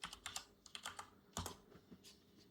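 Quiet, close typing on a computer keyboard, a short irregular run of light key clicks with a couple of firmer taps, no voices.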